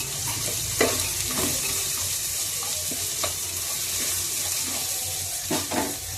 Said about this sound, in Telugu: ఇది చూడండి అల్లం వెల్లుల్లి పేస్ట్ కూడా వేస్తున్నాను. ఇవన్నీ కలిపి మనకి బాగా వేగాలండి.